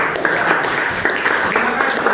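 Applause from students in a classroom, a dense, steady patter of many hands clapping at close range throughout, with scattered individual claps standing out.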